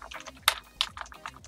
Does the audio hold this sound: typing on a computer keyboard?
yes